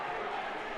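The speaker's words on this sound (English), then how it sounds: "And the crowd erupts in cheers" Crowd noise at a JV basketball game against De La Salle, a steady, loud roar of cheering that fills the short moment without a break.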